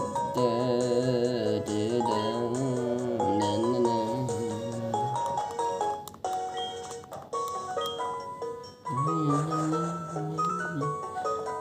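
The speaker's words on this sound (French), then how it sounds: "On dirait que t'as sonné le téléphone." Chiming ringtone-style melody from Pokémon HeartGold, a bright repeating electronic tune that plays loudly and steadily for about five seconds, breaks off briefly, then returns with shifting notes.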